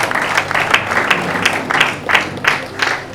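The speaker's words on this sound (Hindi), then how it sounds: "तो जोरदार तालियां पीनल मैम के लिए" Loud applause from an audience at a book inauguration ceremony, dense clapping with rhythmic surges throughout.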